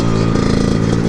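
A Yamaha Blaster ATV launches on hard-packed ground in second gear, its single engine note a loud, close, buzzing rasp held steady through the short burst.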